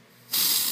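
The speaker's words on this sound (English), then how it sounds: "we're gonna do one more spritz of spray before the decals go on" A short burst of nail spray spritzed over painted nails before decals go on, a sudden close, loud hiss starting after a brief quiet moment and holding steady to the end.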